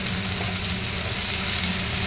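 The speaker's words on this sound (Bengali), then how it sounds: "বরবটি দিয়ে বেশ কিছুক্ষণ ভেজে নিতে হবে" Potato, ridge gourd and yardlong beans fry in a pan with a steady, even sizzle that holds close and constant throughout, with no talking.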